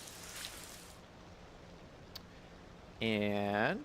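Soft rain falls in the city-building game Cities Skylines 2, a steady low hiss for about three seconds before a voice starts talking over it.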